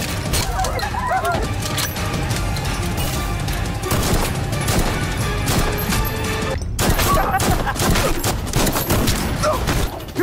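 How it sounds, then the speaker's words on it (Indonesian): Loud, dense bursts of rapid gunfire crackle almost continuously, with crashes and shouting voices mixed into the chaos. "mulai menghancurkan tempat itu dengan tembakan membabi buta"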